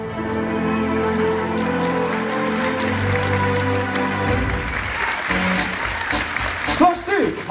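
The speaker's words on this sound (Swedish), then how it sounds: "Stor applåd!" A theatre audience at Maximteatern claps at the opening of an authors' stage show, with a voice over the start before the applause builds into a dense, sustained patter.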